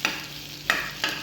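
Spices frying in hot oil in a pan for pomegranate chutney, a sizzling hiss broken by three sharp bursts as the pan is stirred, close and moderately loud.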